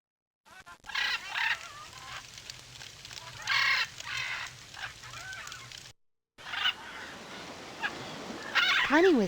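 Cartoonish birds in the 3DO game It's a Bird's Life honk, cluck and chirp in short overlapping bursts, fairly loud and close, broken by a brief silent gap before more calling and a rising whistle-like sweep at the end.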